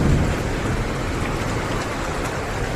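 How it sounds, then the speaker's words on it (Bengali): Heavy rain pours down during a hailstorm as a dense, steady, close hiss that stays at the same level throughout. No voices are heard. "বৃষ্টি আবার জোরো হচ্ছে আবার শুরু হয়ে গেছে"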